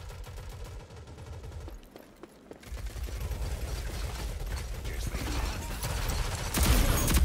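SMG fire in a video game shooter, a steady stream of rapid mechanical shots rattling on, briefly dropping out before resuming and building louder toward the end.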